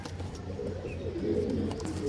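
Pigeons at a pigeon sale in Hooghly, low soft cooing repeating in a steady pulse under a continuous background hum, close and moderately loud.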